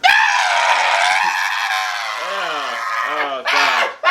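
A person imitates a nasty, drawn-out screech with their voice, a harsh high shrieking wail held for several seconds with wavering pitch, loud and close, ending in a brief rising squeal.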